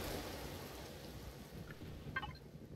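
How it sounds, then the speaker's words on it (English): Steady rain falling over a desert in the survival game Empyrion, a dense, even hiss at moderate distance with a few brief brighter drips or splashes near the end. "It's raining in the desert."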